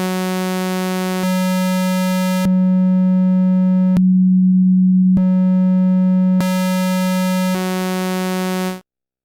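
A sustained synthesizer note from a BP synth held steadily while the oscillator select knob is turned, its timbre switching in distinct steps between buzzy harmonic-rich waveforms and a pure sine tone, loud and alone.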